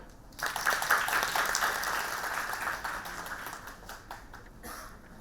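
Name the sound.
conference audience applause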